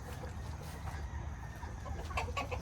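Chickens and roosters cluck in a steady, busy murmur close by, with a few sharper calls rising near the end over low background rumble.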